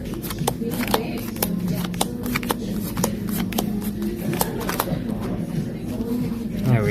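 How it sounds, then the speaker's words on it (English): Playing cards are shuffled for a tabletop board game, a run of crisp riffling snaps and flutters repeating through the clip at close range, with low room murmur underneath. "So let me go ahead and give it this 3-card shuffle real quick."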